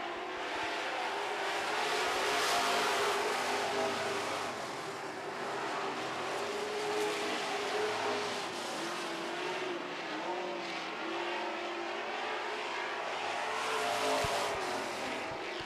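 Super stock race cars roaring around an oval track, a loud continuous engine drone with shifting pitch as the pack passes, heard steadily from a distance without pause.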